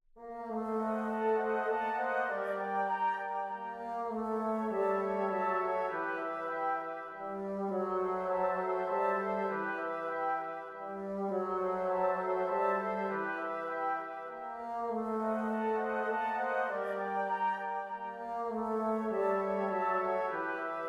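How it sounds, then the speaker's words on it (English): Bassoons double the cellos on a slow, sustained orchestral melody, the woodwinds playing long legato phrases in repeating swells with no voices. "So this is what the woodwinds sound like in this context."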